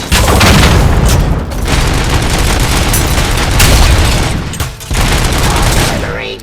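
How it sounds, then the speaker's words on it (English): Heavy artillery explosions in Robocop Rogue City, a loud, continuous barrage of booms and rumbling blasts with brief dips, close and overwhelming. "Artillery."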